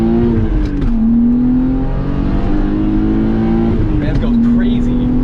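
A BMW S52 straight-six pulls hard on back roads, its loud droning engine note climbing through gears with short pitch drops at each shift, heard close from inside the car.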